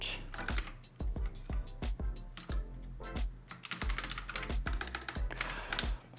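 Someone types on a freshly built mechanical keyboard with newly installed switches, and the spacebar is acting up. Quick clacking keystrokes come in bursts with heavier thuds mixed in, close and fairly quiet.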